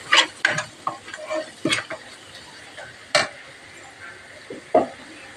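Masala spices (turmeric, coriander powder, garam masala) stirred in hot oil for chana masala, giving scattered scraping stir strokes over a low sizzle, with a few sharp louder knocks from the utensil.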